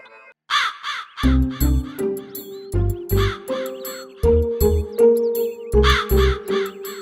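A crow caws several times in quick paired calls, loud and close, with bursts of music or other sounds between them.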